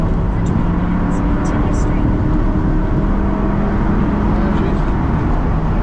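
Bone-stock 1998 Ford Mustang Cobra engine pulling in third gear from about 4,000 rpm in traffic, a loud, steady, close drone with a low hum that holds throughout.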